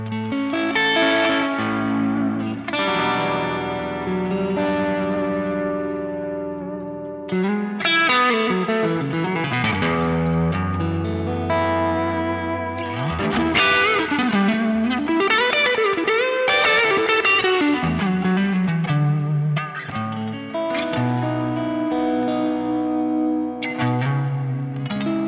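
Electric guitar played through a Quad Cortex with overdrive, an always-on compressor and a long reverb, giving sustained, distorted chords and melodic lines that ring out and wash into a lush tail, loud and continuous with no talking.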